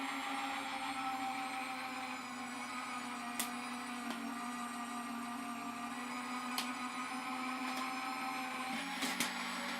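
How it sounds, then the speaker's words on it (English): A die cutting machine for card making runs with a steady mechanical hum for the whole stretch, with a few brief clicks and knocks near the end. "I'm going to go ahead and run that through my die machine."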